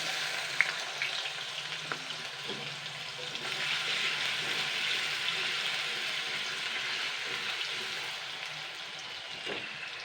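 Potatoes frying in oil to brown, a continuous even hiss of bubbling oil, moderately loud and close, with occasional faint clicks and no talk.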